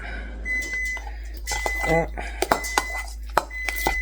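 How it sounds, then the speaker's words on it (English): Guacamole is stirred in a bowl with a utensil, giving a string of light clinks and scraping taps close by, with a person talking over it. "you want to give that a good, even, thorough mix"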